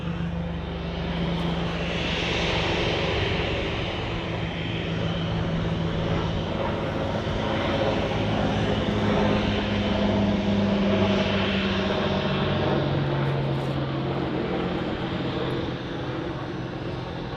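Rotor and engine drone of an Apache helicopter passing over Manchester Airport, a steady loud roar holding for the whole stretch with slight swells and no voices.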